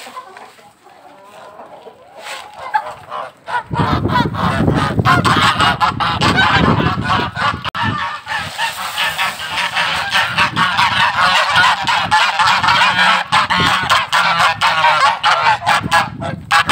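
A farmyard flock of geese honks loudly and continuously, a dense chorus of overlapping calls close by after a quieter start, with chickens clucking among them.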